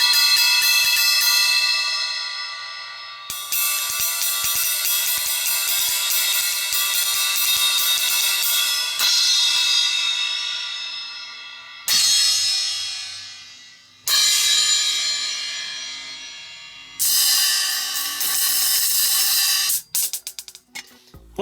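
Sabian Quiet Tone low-volume ride cymbal played alone in several sustained passages, a bright shimmering wash of repeated stick pings broken by short pauses, with a final burst of quick scattered hits.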